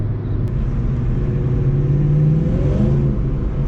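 A Ford Mustang SVT Cobra engine revs at light throttle, a close, steady low rumble that swells slightly midway and eases off, with no talk.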